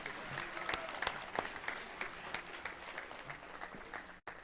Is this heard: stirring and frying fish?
no